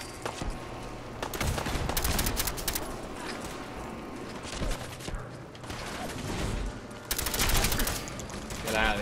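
Gunfire in a video game, heard as dense bursts of rapid shots and fusillades with mechanical clicks, fairly loud and continuous, with players talking over it at times.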